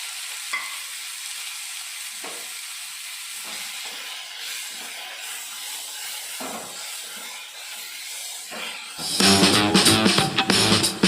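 Onions fry in a pan with a continuous sizzle and occasional stirring scrapes, then chopped tomato, chilli, garlic and ginger go in and the sizzle erupts into a loud, bubbling crackle near the end.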